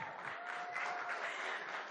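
Audience applause at the Republic Kannada Sangama 2025 stage event fills the room as a steady, dense wash of clapping that holds at an even level throughout, with no speech.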